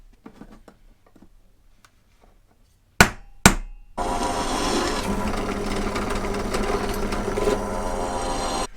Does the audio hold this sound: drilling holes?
yes